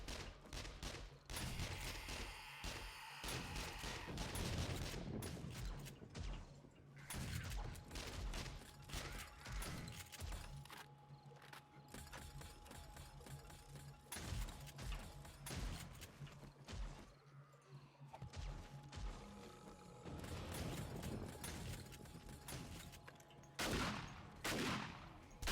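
Weapon fire in 7 Days to Die at a fortified mansion base, scattered bursts and single shots repeating unevenly across the scene at a fairly low level, mixed with clanks and other game noise.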